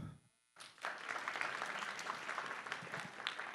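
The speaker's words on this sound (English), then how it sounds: "As I go through each slide, feel free to clap." Following a brief quiet moment, a convention panel crowd breaks into full clapping that holds steady, a thick wash of hands with scattered louder claps from a room of fans.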